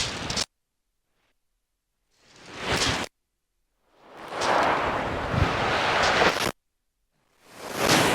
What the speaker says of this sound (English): Wow, it's windy. Sorry if you're picking that up on camera.